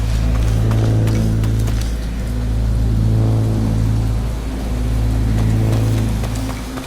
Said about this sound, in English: The sound of water sounds nice and crisp.